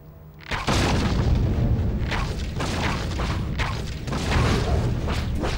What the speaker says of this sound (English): Watch out for the explosives!